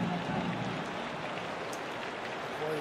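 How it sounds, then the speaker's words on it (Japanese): Rain falls over an open baseball stadium during a professional game, a soft steady hiss of drops under a faint crowd murmur, with a commentator's voice coming and going. "このぐらいの雨ならもう平気でしょう"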